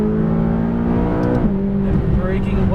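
A McLaren 570S engine drops a gear on a downshift, its steady drone stepping up in pitch partway through, heard from on board the car at close range.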